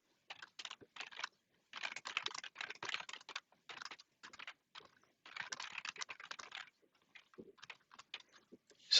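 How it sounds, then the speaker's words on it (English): Someone types on a computer keyboard in quick clattering bursts broken by short pauses, close-up and quiet with no talking. "What I'll do, I'll type the new function."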